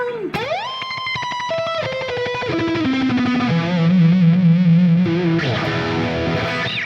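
A distorted electric guitar plays a fast lick, with rapid tremolo-picked notes stepping down in pitch before a final slide upward.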